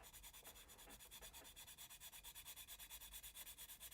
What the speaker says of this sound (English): I use sanding sticks most of the time.